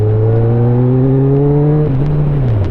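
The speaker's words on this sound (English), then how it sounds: "This bike sounds so good." A Kawasaki motorcycle engine, a Concours 14 or Super Tenere, holds a steady mid-pitched drone while cornering, rising slightly then dropping as the throttle eases, close and loud with no talk.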